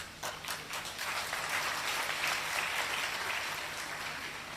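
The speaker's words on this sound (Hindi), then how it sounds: "अभी थोड़ी ताली बचा के रखिए।" Audience applause at a Hindi lecture event, a dense wash of many hands clapping steadily from start to finish, fairly loud and unbroken, with no voices over it.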